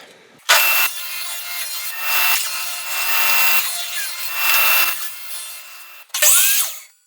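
A power saw set to a quarter-inch width rips a thin strip of wood, a loud, close whine rising and easing through one long cut before stopping briefly and starting again near the end.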